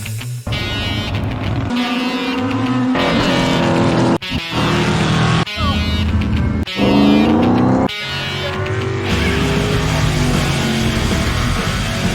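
Race cars practicing at Lee USA Speedway, engines roaring loudly and continuously as they pass, with rising and falling pitch sweeps and a few abrupt cuts between loud passes.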